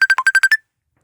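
A phone ringtone sounds for an incoming call, a quick burst of seven short electronic beeps in a fast even rhythm that cuts off abruptly into silence.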